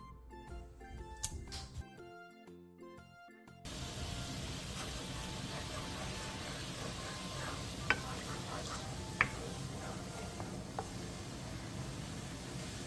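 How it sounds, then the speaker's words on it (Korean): A glaze of water, soy sauce, oyster sauce, plum extract, syrup, minced garlic and sugar bubbling over high heat in a dry pan, a steady sizzle and simmer with a few faint ticks, following a short musical intro. "마른 팬에 물 3분의 1컵, 진간장 3스푼, 굴소스 반스푼, 매실액 1스푼, 물엿 2스푼, 다진 마늘 반스푼, 설탕 1티스푼을 넣고 센 불에서 끓여주세요."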